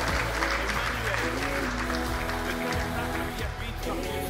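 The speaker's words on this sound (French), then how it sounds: "Est-ce que nous pouvons acclamer très fort?" Applause from guests at a couples' dinner after a prayer, a steady dense wash of clapping that fills the room, mixed with music and the murmur of voices.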